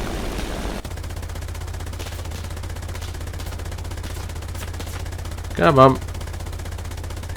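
The rear gunner's machine gun on a Ju-87 R-2 dive bomber in War Thunder rattles in a short burst over a constant droning engine hum, with a brief spoken remark near the start.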